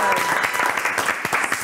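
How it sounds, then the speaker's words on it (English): A studio audience on an afternoon television show applauds for a short burst, with loud, close, dense clapping and some crowd voices mixed in. "Give yourselves a round of applause."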